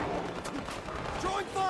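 Gunfire crackles in the HighGuard video game, a quick burst of shots kept fairly quiet and mixed with other game sounds.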